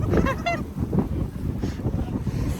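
Strong wind at a lake buffets the microphone with a deep, continuous rumble, and a brief voice can be heard at the start.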